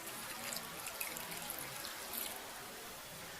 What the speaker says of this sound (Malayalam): അതിലേക്ക് 2 ഗ്ലാസ് വെള്ളം ചേർക്കുക.